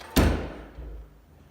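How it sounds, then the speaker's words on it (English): An interior door in a Woonsocket, RI apartment bedroom swings shut with one sharp, close slam, followed by a brief rumbling decay and a faint second thud. "To achieve privacy, those doors can be locked."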